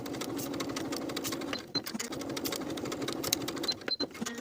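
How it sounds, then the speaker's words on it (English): Sewing machine running steadily, basting a pocket lining onto a pant front along the top and side edges, a close, continuous whirring stitch with a brief slowdown midway. "we'll baste the pocket lining in place along the top and side edge of the pant"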